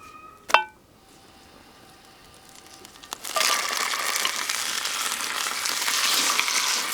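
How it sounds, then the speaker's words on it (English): Meat hitting hot spruce tip olive oil in a pan, starting with a sharp clink and a quiet pause, then a loud continuous sizzle rising and holding steady. "We're gonna sear it in some of the spruce tip olive oil."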